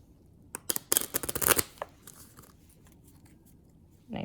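A quick burst of crisp, riffling snaps as Gladius board game cards are shuffled close by, then quiet with a few faint rustles.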